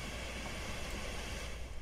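A train easing slowly into a siding in the railway simulator game Railworks: a steady, continuous rolling rumble with broad noise and no distinct clacks, unchanging throughout.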